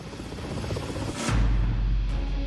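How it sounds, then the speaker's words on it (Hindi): A Mi-17 military helicopter's engine is run during a pre-flight technical check, giving a continuous low rumbling drone that grows louder and fuller partway through, with no one speaking. "इस वक्त Mi-17 हेलीकॉप्टर को इसीलिए चेक किया जा रहा है।"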